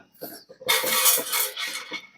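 Several scraping, clinking strokes of a knife cutting food against a plate or board at a campsite, close and fairly loud, with brief quiet gaps between the cuts.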